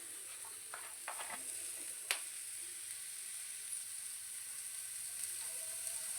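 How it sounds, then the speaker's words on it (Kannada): Coconut oil heats in a pan for a tempering, with a steady, soft sizzling hiss throughout, a few light clicks and taps of utensils, and one sharper click partway through. "ಈಗ ನಾನು ತೆಂಗಿನೆಣ್ಣೆ ಹಾಕ್ಕೊಳ್ತೇನೆ"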